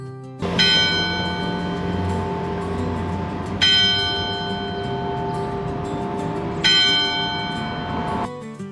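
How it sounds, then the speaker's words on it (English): The bell at the Gettysburg Train Station rings in three evenly spaced strikes, each a bright metallic clang with a long resonant ring-out, moderately loud and alone. "the bell on the Gettysburg Train Station began to ring"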